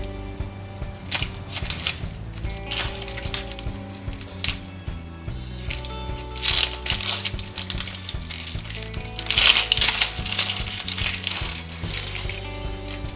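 Someone peels the dry, papery outer skin off an onion by hand, close up. Crinkly, crackling rustles come in irregular bursts over a low background hum.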